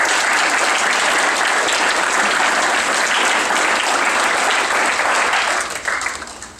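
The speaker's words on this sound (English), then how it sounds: "Let's give them a round of applause" A crowd at a football banquet claps steadily and loudly for several seconds before the applause fades out near the end.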